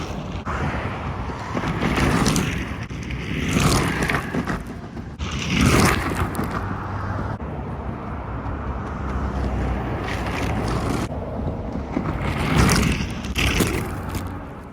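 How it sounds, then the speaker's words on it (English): MAXFIND MAX6 electric skateboard ridden fast over rough, bad roads: continuous rumbling wheel and deck scrape with gusts of wind noise, surging in bursts, no talking. "You could hear me riding fast over bad roads"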